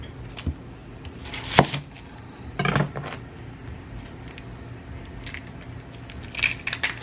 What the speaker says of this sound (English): I'm going to cut up the onion